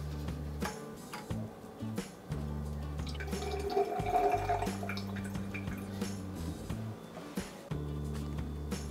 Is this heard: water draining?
yes